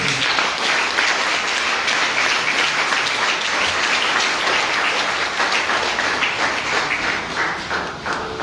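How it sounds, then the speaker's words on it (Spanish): A church congregation breaks into loud, sustained applause, a dense wash of clapping that holds steady for over eight seconds and tapers slightly near the end. "Dale un fuerte aplauso."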